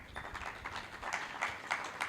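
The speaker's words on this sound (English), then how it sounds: "A round of applause." Quiet, somewhat distant applause from the audience at an agricultural extension week event in Uganda, uneven clapping with a few sharper individual claps rising out of the steady patter.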